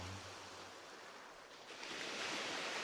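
A steady wash of ocean waves and surf, soft and even at first, then swelling louder as a wave breaks near the end, with no voices.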